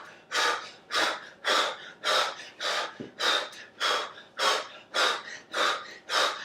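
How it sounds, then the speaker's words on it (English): Deep, rhythmic breathing exercise, about ten strong breaths in steady cycles, each a loud, airy rush close to the mic with no talking. "we're going to start with the breathing"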